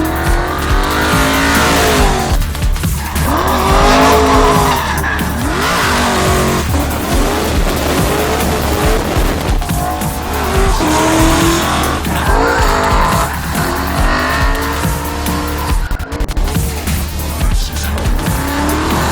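Ford RTR-X drifting sideways at around 90 mph, its engine roaring and revving in surges while the tires squeal and skid continuously, loud and close throughout.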